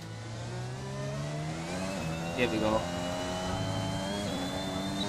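F1 race car engine in F1 2021 during Q3 qualifying, a steady high-pitched drone rising in pitch as the car accelerates, heard throughout under someone talking.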